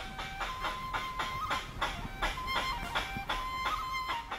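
Con Dao giant black squirrels in a damp forest at dawn give a steady run of sharp, repeated barking calls, about two per second. The calls are moderately close over a faint, hissy woodland background.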